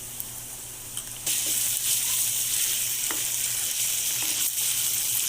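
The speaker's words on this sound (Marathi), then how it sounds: "अद्रक आणि लसणाचा कच्चा वास जाईपर्यंत आपल्याला मंद आचेवर परतवून घ्यायचा आहे" Onion sizzles in a pan with ginger-garlic paste, a faint hiss at first, then louder steady frying with a few scrapes of the spoon, close up and without talk.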